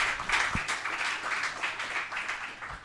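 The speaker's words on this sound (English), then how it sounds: "again, round of applause and congratulations on joining Voxbone" Audience applause at a tech summit session in Lisbon, a moderately loud wash of clapping that holds steady with a few sharper individual claps.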